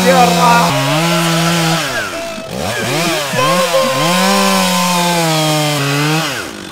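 Chainsaw sound effect played on a podcast, a loud engine drone whose pitch rises and falls in revving sweeps over several seconds.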